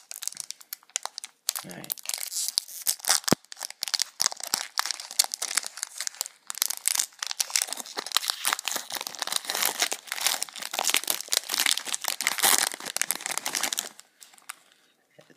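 Crinkling and tearing of a Pokémon EX Crystal Guardians booster pack wrapper with Jirachi on the front, a dense close crackle running for about twelve seconds before fading, with a brief spoken word near the start.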